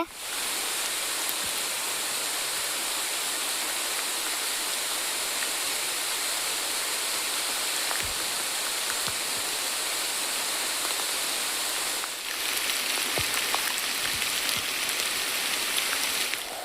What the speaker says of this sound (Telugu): చాలా పెద్ద వర్షం పడుతుంది